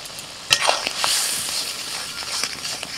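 Spice paste with ground turmeric, Kashmiri chilli, coriander, cumin and salt frying in hot oil, a steady close sizzle with a sharp burst as it hits the pan and soft stirring scrapes.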